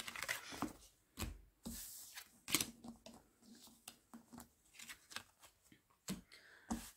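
Tarot cards are shuffled by hand in a series of crisp riffling and slapping bursts, fairly close, with short pauses between each sharp flurry.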